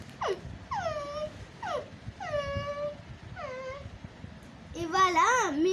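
A person imitates a frightened dog with a series of short, descending whimpers and whines, close and fairly soft, ending in a wavering, louder moan.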